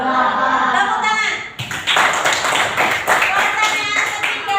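A group claps hands in a run of sharp, close, uneven slaps after a quiz answer, with a voice talking briefly before the clapping starts.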